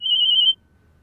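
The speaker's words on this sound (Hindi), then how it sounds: "फोन आ रहा।" A phone ringtone plays as one steady, bright electronic tone lasting about half a second, then cuts off to near silence. It is clear and close, with no talk.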